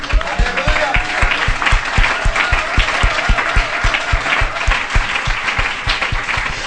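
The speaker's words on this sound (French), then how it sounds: "Applaudissons le Seigneur." A church congregation claps together in a steady, rhythmic beat during a French worship service, the loud, even applause running throughout with a faint voice underneath.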